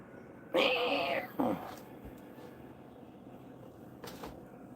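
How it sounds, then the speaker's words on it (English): Cats excited by catnip let out a strained, drawn-out yowl followed by a short second cry, close and fairly loud, then quieter shuffles and a faint thump in a quiet room. "threw a bunch of catnip all over. The cats are freaking out."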